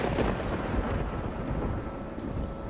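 A stormy sea in Bannerlord War Sails, rendered as a dense rumbling roar of wind and rough weather, steady and loud throughout, with no speech.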